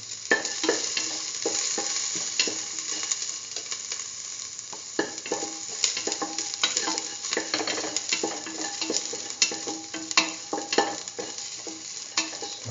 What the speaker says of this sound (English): now put in the garlic, salt,